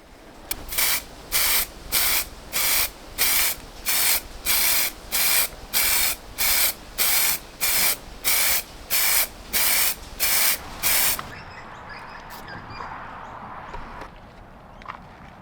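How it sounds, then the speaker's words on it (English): An aerosol can hisses in about fifteen short, regular bursts, each roughly half a second, close and loud, followed by quiet room noise. "So it's time to put the protective spray on it"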